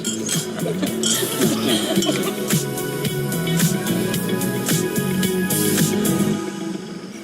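Glasses clinking in a toast, a run of bright clinks and rings repeating over a busy background of voices and movement.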